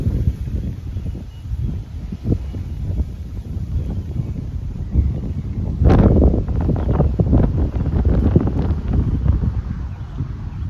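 Steady outdoor wind buffeting the microphone, a low rumbling roar throughout with a louder gust near the middle.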